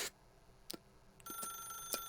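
A telephone rings in the video game The Stanley Parable, a faint electronic bell bursting in short repeated rings against a quiet background.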